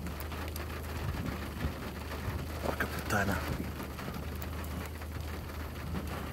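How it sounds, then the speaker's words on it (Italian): Rain falls steadily during a thunderstorm, a dense, even hiss of drops striking surfaces with a faint low rumble beneath. Someone briefly speaks over it near the middle. "Tra l'altro piove già."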